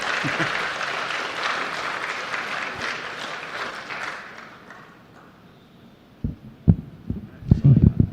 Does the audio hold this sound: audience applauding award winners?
yes